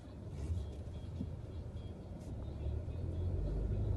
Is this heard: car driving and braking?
yes